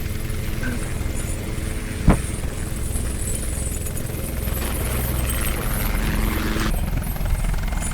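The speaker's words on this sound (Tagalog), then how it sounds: "Helicopter!" A helicopter in the video game Chained Together gives off a steady, loud rotor and engine drone that fills the whole stretch, broken by one sharp click, with no voices.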